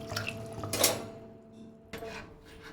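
Bachali greens being rinsed in a bowl of water, with splashing and clinking against the vessel in two short bursts separated by a quieter pause.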